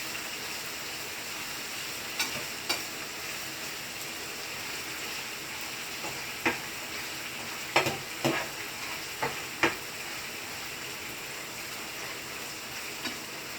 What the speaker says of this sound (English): as I let that slowly simmer